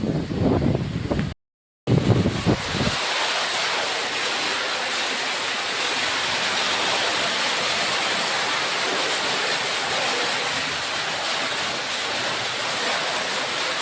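Water gushing from a pipe into a household tank at low pressure, a continuous broadband rushing hiss that runs unbroken after a brief dropout and a short bump near the start.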